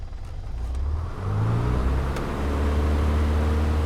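A small airplane engine throttles up for takeoff, a loud, close, steady drone that climbs in pitch and grows stronger partway through, with no talking over it.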